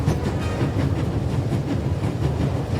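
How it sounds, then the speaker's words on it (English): A moving train in the video game The Raven: Legacy of a Master Thief Remastered gives a continuous rumble with rhythmic clickety-clack from the rails, loud and steady, with no voices. "There's nothing quite like traveling on a train."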